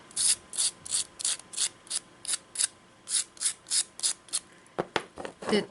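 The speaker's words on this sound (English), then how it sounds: "I will use the sandpaper to make the earrings smooth" Air dry clay earrings are rubbed with sandpaper in a quick series of short, scratchy strokes, around a dozen evenly spaced rasps, close and fairly quiet with no talking.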